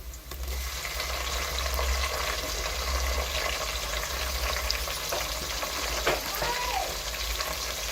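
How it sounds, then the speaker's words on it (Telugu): Onions frying in oil with tomatoes going in for a country-style chicken pulao, a steady, close, loud sizzle that holds throughout with faint stirring scrapes. "ఎర్రగడ్డలు అయితే వేగిపోయి టమాటాలు అయితే వేసేసుకుందాం"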